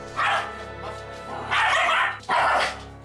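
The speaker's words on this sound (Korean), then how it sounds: "방에 들어오려는 어머니를 향해 짖고 달려들던 초코" Choco, a problem dog with aggressive behavior, barks loudly indoors at a woman trying to enter a room, three sharp bursts close by with brief pauses between them.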